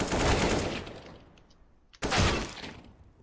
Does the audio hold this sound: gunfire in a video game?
yes